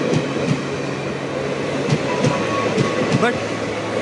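A train rolls loudly and steadily past as it leaves a station, with rhythmic clickety-clack wheel knocks and a brief wheel squeal near the end.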